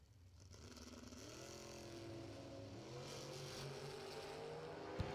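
Dragster engines at a Friday drag race roar up and rise in pitch as the cars launch down the strip, a steady, loud rumble building through the whole stretch, with a sharp crack near the end.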